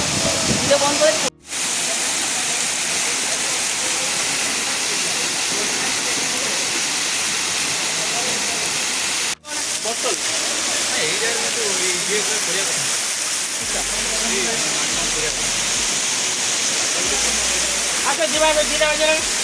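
A waterfall roars as a loud, steady broadband rush that fills the whole stretch, with two brief dropouts, while people talk over it close by.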